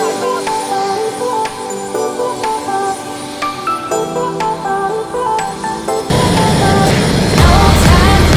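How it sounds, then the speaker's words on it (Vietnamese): Helicopter flying over New York City with steady rotor and engine noise throughout, swelling louder and harsher near the end as if closer or revving. "chuẩn bị lên máy bay đi vòng quanh thành phố New York bằng trực thăng"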